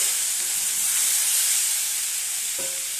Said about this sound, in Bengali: এবার আমি আলুগুলো দিয়ে দেবো দুই থেকে তিন মিনিট এভাবে ভালোভাবে কষিয়ে নিয়েছি